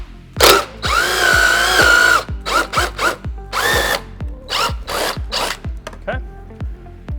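A drill bores through the front splitter of a 2020-2024 Chevrolet Corvette C8, cutting in several loud, close bursts of varying length that stop and start, with the motor whining between short pauses.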